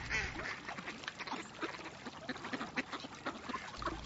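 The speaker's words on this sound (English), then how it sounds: "The ducks, the mallards, the pintails, the widgeon, a few coots as well." A mixed flock of wild ducks at a wetland bird sanctuary, including mallards, pintails, widgeon and a few coots, quacking and chattering continuously at moderate distance over a soft outdoor background.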